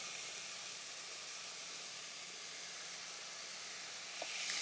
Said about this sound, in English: So you just stir frying it till a little bit of the raw smell goes away